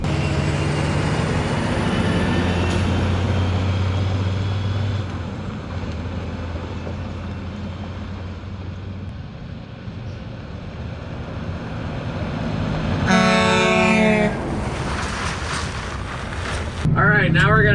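A 2000 Volvo truck engine drones loud and low as the truck drives along, with wind and road noise and shifts in engine tone as it changes gears.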